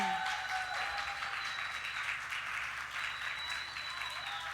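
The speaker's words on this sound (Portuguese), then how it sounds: "vocês receberem com uma salva de aplausos calorosos" Warm audience applause welcoming a speaker to the stage at a knowledge event, a continuous wash of many hands clapping at steady loudness throughout, with faint voices underneath.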